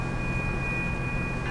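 Steady deep hum of a big diesel locomotive idling in Train Sim World 2020, a Caltrain Baby Bullet, droning evenly and close throughout with a faint tonal whine riding above it and no voices.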